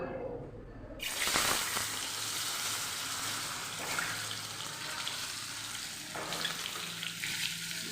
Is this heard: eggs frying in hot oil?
yes